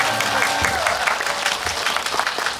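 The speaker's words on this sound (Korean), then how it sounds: "박수 한번 보내주시면" Audience applause at a film screening event, a steady wash of many hands clapping that holds at an even level for the whole stretch.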